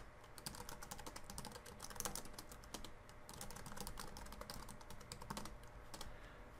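Router configuration commands are typed on a computer keyboard, a quiet, continuous patter of rapid key clicks with brief pauses throughout.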